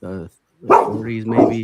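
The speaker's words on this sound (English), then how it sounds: "Oh, sorry about my dogs, man." Dogs bark in short, harmonic bursts at close range, overlapping with someone talking.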